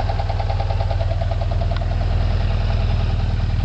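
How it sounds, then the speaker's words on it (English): Old engine with over 300,000 miles idling with a hydro generator installed, a loud steady close rumble with a fast even pulse and a faint higher whine, no talk. "The motor sounds like it's running normal. It's got its usual sound. This is an old engine."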